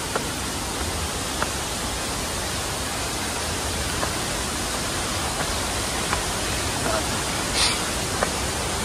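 Vera Falls waterfall rushes steadily as broadband white noise, loud and unbroken, with a few faint clicks and brief voices barely audible beneath it.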